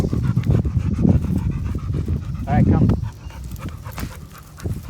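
A dog pants in quick, breathy bursts close by while someone speaks over it; a short whimpering sound rises midway.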